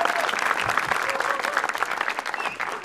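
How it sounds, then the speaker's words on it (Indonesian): An audience at a stand-up comedy show applauds in a dense, continuous burst of clapping, loud and close for nearly three seconds. "Beri tepuk tangan dulu untuk kita semua"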